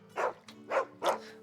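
A dog in the video game Final Fantasy XVI gives three evenly spaced barks, close and distinct over a faint low background hum.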